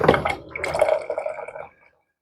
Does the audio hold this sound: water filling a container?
yes